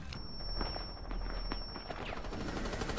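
Gunfire in the Rainbow Six Siege video game crackles in quick bursts, moderately distant and somewhat muffled, with a steady high whine and background game ambience throughout.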